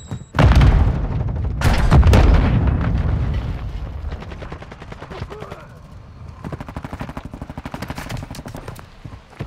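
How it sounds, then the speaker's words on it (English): A grenade in Call of Duty: Modern Warfare II goes off as a sharp, booming blast amid heavy gunfire, followed by a second burst and then rapid, crackling automatic fire that continues more quietly. "Throwing grenade!"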